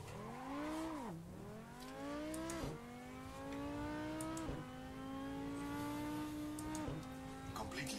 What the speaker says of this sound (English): Completely different sounding, but typical Audi sound on the R8 here.